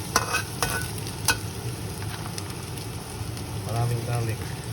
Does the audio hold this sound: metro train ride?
no